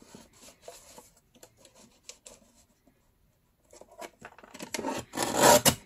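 Scissors trim an edge of leather or fabric on an envelope-style bag, with scattered light snips at first, a quiet pause, then a louder, denser burst of cutting near the end. No one speaks.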